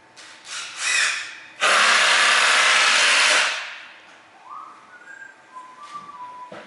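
A person whistles a short tune, with a brief loud rushing burst of noise partway through, then thin rising whistled notes fading out.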